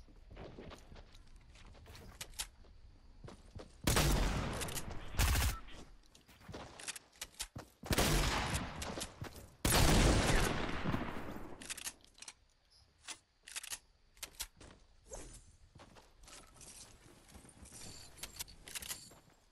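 Double-barrel shotgun fire in an online shooter game, several loud, sharp blasts clustered in the middle amid scattered clicks, footsteps and rattling movement.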